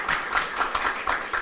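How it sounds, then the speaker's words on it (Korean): An audience applauds a speaker at a youth forum launch held at the National Assembly, a steady wash of many hands clapping at moderate volume with no voices over it. "큰 박수 부탁드립니다."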